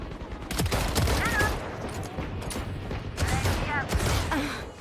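Rapid gunfire from the Valorant video game rattles in dense, loud bursts, with brief breathy vocal sounds mixed in.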